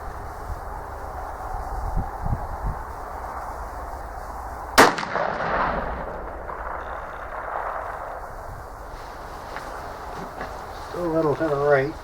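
A T/C Impact muzzleloader rifle fires a single loud, booming shot with a 100-grain powder charge outdoors, its report rolling away into open air, with voices talking in the background.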